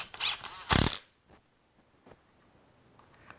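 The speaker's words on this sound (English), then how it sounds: "go ahead and set 6 screws. The screws we're using here are 1 1/4 inch drywall screws." A power drill driving 1 1/4 inch drywall screws, two short bursts of high whirring, the second louder, followed by faint clicks and handling noise.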